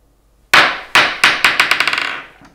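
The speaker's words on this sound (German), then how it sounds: "drückt dort auf Start und lasst den Ball springen." Ball dropped onto a hard surface and bouncing, a sharp first impact followed by a quickening series of smaller bounces that fade and speed up until they settle, close and clear with no voices.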